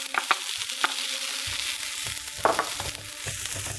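Shallots, ginger, chili and peas sautéing in a pan for Rajasthani-style samosa filling, a steady close sizzle with a few sharp stirring clatters and scrapes breaking through.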